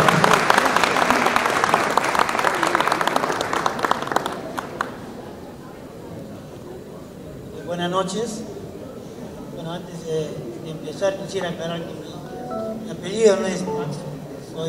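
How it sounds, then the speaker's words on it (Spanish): Audience applause at a Mollendo community celebration in Paterson, New Jersey, fairly loud dense clapping for the first few seconds, then fading out as voices and talk take over. "Y no hay un aplauso y bienvenida para ellos, caballeros."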